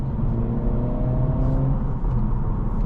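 2026 Acura Integra A-Spec Tech with six-speed manual, engine droning steadily and loud up close as it accelerates, pitch rising and dipping around shifts, no talking.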